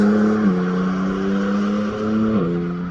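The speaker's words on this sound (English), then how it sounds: "Munich license plate, so that's a BMW, so probably another 2 Series." A BMW 2 Series prototype drives on the Nürburgring, its steady engine drone loud and close, with two clear gear shifts breaking the tone partway through.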